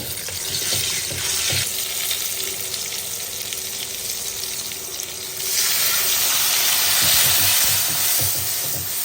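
Onions hitting hot oil in a kadai give a loud sizzle that rises sharply partway through and then holds as a bright continuous crackle, with a few clinks of utensils in the pan.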